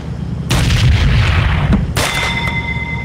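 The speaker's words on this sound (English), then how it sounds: "I like dinging the bell." Gunshots in Gun Club VR strike a metal bell, two sharp loud cracks about a second and a half apart, each followed by a lingering bright metallic ring.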